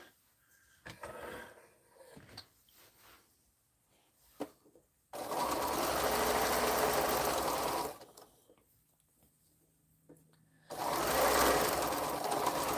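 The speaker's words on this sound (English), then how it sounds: "And now I'll sew straight down there." A sewing machine stitches quilt block seams in two sustained runs of fast, even whirring, close and steady, separated by quiet stretches of fabric handling and small taps.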